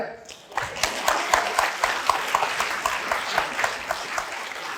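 An audience claps through a televised Gyeongsangnam-do governor candidates' debate on social welfare policy at the 2022 local elections, with dense, steady applause and sharp individual claps filling the room from just after the start to the end.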